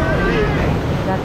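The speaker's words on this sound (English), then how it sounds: "Those are the speedboats. We are riding in one speedboat." Speedboat running over the sea near Saona Island, a loud continuous engine roar mixed with wind buffeting and water rushing past the hull, with voices faintly under the noise.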